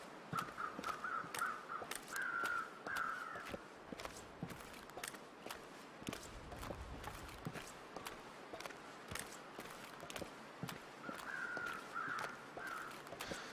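Crows cawing in the survival game The Long Dark, repeated harsh calls at a moderate distance with scattered crunching footsteps over a windy outdoor bed.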